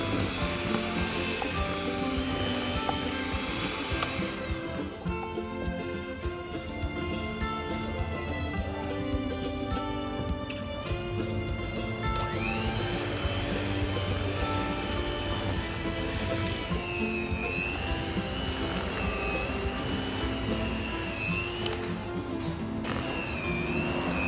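An electric mixer churns nastar cookie dough as flour is added gradually, a continuous loud motor whir with shifting pitch under background music, running without pause throughout.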